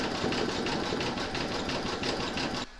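A home embroidery machine stitches a Valentine's coaster, running a satin stitch around the inner frame with a fast, steady mechanical chatter. It sounds close and continuous, then stops abruptly near the end.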